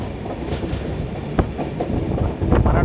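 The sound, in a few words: Swarnajayanti superfast express train running and taking a turn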